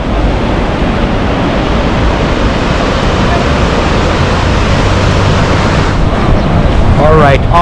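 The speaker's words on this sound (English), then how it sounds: "And this river is called Oi River, O-I." The Oi River at Arashiyama, Kyoto rushes with a loud, broad, steady wash of flowing water, close and unbroken, with a brief faint higher sound near the end.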